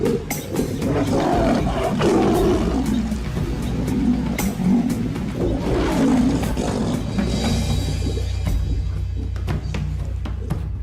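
Lions roar in the wild, the low, heavy calls running steadily and loud through the whole stretch, with no voices over them.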